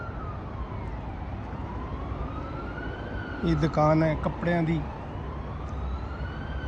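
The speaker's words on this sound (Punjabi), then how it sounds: "ਪੁਲਿਸ ਦੀ ਗੱਡੀ ਬੜੀ ਸਪੀਡ ਨਾਲ ਜਾ ਰਹੀ ਹੈ" A police car siren wails faintly in the distance as it speeds past over steady morning main-road traffic, rising and falling, while a person briefly speaks nearby.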